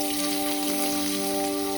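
Onions sizzle steadily in hot oil in a kadai for Jaffna-style kothu roti, a continuous hissing crackle with a faint steady hum underneath.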